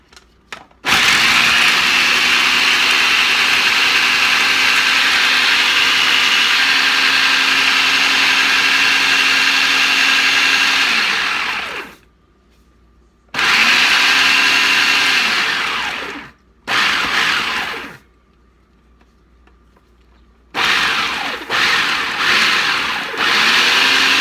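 A food processor chops ingredients for a Boston banana cream cake, whirring loudly in one long run of about eleven seconds, then in several shorter pulses separated by silent pauses.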